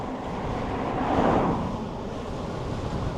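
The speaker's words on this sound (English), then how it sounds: "The wind is blowing directly towards me, so it is slowing me right down." Steady wind buffeting a rider on a budget folding ebike cruising at around 20 mph, a broad rushing noise that swells briefly in the middle and stays constant throughout, with no talking.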